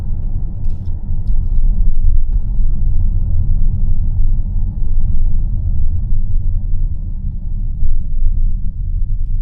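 Low road rumble inside a Chery Tiggo 8 Pro Max driving through Belgrad Forest, a steady, heavy drone with faint rattles over uneven road, loud and continuous with no talk.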